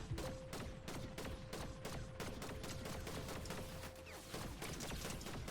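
Rapid bursts of video game gunfire, dense repeated shots in quick volleys with a few short pauses, loud and close for about five seconds, no talk over it.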